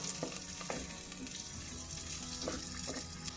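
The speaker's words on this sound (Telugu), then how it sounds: "ఉల్లిపాయలను బాగా వేగనివ్వాలండి" Onions and green chillies frying in oil in a pan, a steady crackling sizzle with a few sharper stirring scrapes, close and moderately quiet, with no voices.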